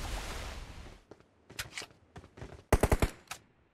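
Gunfire rings out down a street in an online squad shooter, with scattered single shots followed by a tight, loud burst of four or five rapid reports and one more after, over a noisy opening wash.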